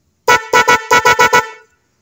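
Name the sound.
imitation snail horn car horn being tested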